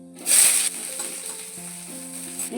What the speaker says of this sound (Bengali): শুকনো লঙ্কা ফোড়ন দিয়ে দিলাম আর একটু কালো জিরে ফোড়ন দিলাম